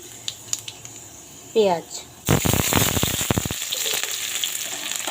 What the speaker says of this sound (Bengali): এখন এর মধ্যে কালো জিরা ফোড়ন দিয়ে দেব